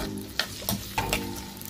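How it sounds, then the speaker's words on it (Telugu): Onions and green chillies frying in hot oil, a close, steady sizzle broken by a few sharp stir scrapes and crackles. "ఇప్పుడు ఉల్లిపాయ పచ్చిమిరపకాయలు వేసేసుకొని"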